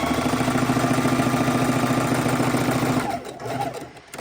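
Sewing machine running a straight stitch on quarter-inch seams, joining fabric scraps for log cabin quilt blocks; a loud, steady motor whir with rapid needle clatter for about three seconds, then it slows and stops.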